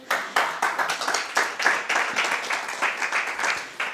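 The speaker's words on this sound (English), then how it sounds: "Another applause from them" A modest audience at a startup pitch competition claps after a pitch; individual claps come through as a loose, uneven patter of moderate loudness rather than a full roar.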